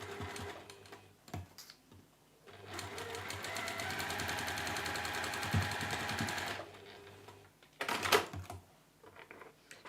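A sewing machine runs a decorative stitch along a fabric bookmark, a steady rapid mechanical chatter lasting about four seconds, bracketed by short bursts of stitching and handling clicks.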